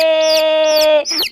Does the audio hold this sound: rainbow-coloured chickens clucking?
yes